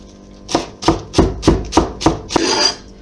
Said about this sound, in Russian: Всю зелень мы тщательно промываем и мелко нарезаем.